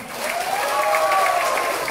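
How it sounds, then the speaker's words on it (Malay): A crowd at a Parti Warisan political rally for the Kimanis parliamentary seat breaks into applause, a continuous dense clapping that stays loud for the full couple of seconds, while a faint tone carries underneath. "semua beri tepukan."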